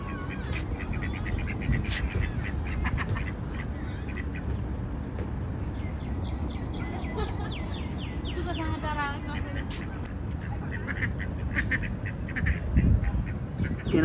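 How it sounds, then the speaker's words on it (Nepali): Ducks quack repeatedly at Sabiya park, a mix of nearby calls in short bursts, while people talk close by over the outdoor ambience. "हेर्नुहोस् न कस्तो राम्रो छ हाँसहरू पनि।"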